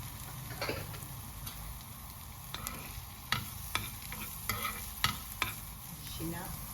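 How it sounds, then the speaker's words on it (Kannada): Ginger and garlic fry in groundnut oil in a pan, a soft continuous sizzle broken by sharp scattered clicks and taps of a stirring spoon against the pan, fairly quiet and close, with no talk. "ಈಗ ಇದಕ್ಕೆ ಶುಂಠಿ ಬೆಳ್ಳುಳ್ಳಿ ಹಾಕ್ಕೊಳ್ತಾ ಇದ್ದೀನಿ."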